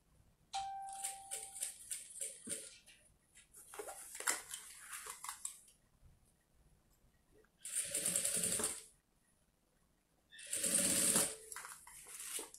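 Sewing machine stitching a bag seam, running in several short bursts separated by pauses, close and fairly quiet, with faint handling noises between runs.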